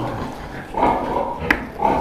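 Pigs grunt and let out short squeals at close range, a few brief calls in quick succession.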